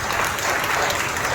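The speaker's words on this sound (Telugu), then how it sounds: "బిగ్గరగా చప్పట్లు కొట్టి ప్రభువును మహిమపరచండి" A congregation at a Sunday worship service clapping loudly, dense continuous applause filling the whole moment with no voices standing out.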